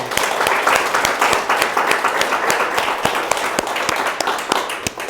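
Audience at a National Trust event for the Pilgrimage Project applauds with sustained, loud clapping, sharp individual claps standing out over a steady wash of hands, with no talk over it.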